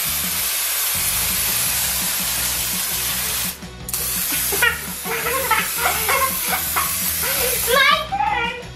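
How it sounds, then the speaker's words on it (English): A can of silly string sprays in a long hissing burst, then sputters in shorter spurts while children's voices chatter and shout over it. "I think we're out of silly string, Maya"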